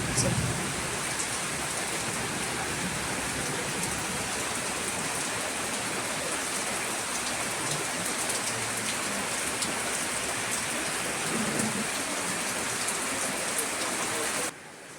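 Dense, steady downpour roars evenly throughout at night, a heavy rain hiss with faint voices now and then underneath, cutting off abruptly near the end.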